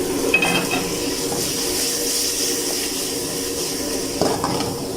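Capsicum, onion and green chili stir-fry in a pan with a steady close sizzle. A few light scrapes and clinks of a utensil against the pan stand out over it, and a sharper clatter comes near the end.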